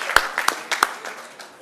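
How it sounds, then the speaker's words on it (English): Audience applause at a Japan Festival, heard as a short burst of scattered claps with a few sharper hits, moderately close, over faint background murmur. "Give them a big round of applause, please."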